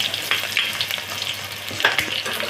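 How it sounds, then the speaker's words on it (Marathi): Onion fries in oil with a strong, crackling sizzle and occasional stirring scrapes, steady and close with no talking. "मला जेवढं तेल हवं मी तेवढं टाकते बघा मंडळी म्हणजे आपण यामध्ये कांदा टाकून घेतलेला आहे"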